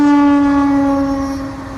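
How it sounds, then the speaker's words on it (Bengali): An Indian Railways train passing near Jhargram sounds a loud, sustained horn blast, steady and close, fading slightly toward the end. "এখন বর্তমানে ইন্ডিয়ান রেলওয়ে যাচ্ছে, এই যে ট্রেন যাচ্ছে, দেখা যাবে,"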